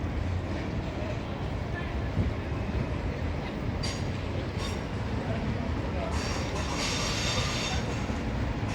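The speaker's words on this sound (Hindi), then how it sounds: "एक और रेलगाड़ी आ रही है सामने" A train arrives near the waterfront in Bjørvika, Oslo, with a continuous low rumble of rolling wheels and occasional brighter screeches, fairly close and loud, while someone talks over it.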